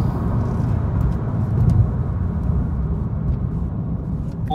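Steady road rumble and tire roar inside a Chevrolet Volt electric car accelerating toward 70 mph on a road, a continuous even drone with no voices.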